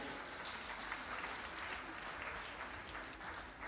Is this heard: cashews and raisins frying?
no